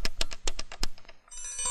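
A telephone rings in a film scene: a quick series of sharp, evenly spaced bell bursts, followed by a brief steadier high tone, with no speech over it.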